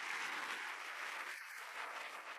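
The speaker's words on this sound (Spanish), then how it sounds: "Vamos a darle un aplauso a Darius mientras sube al escenario" A live audience applauds as a man named Darius walks up onto a church stage, a steady, dense wash of clapping that holds at an even level with no voices over it.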